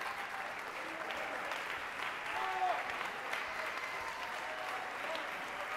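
Light, scattered applause from a church congregation during a sermon, a soft steady patter that swells briefly in the middle and stays faint throughout.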